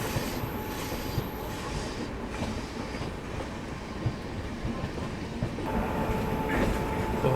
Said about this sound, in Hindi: कोचुवेली योगनगरी ऋषिकेश एक्सप्रेस।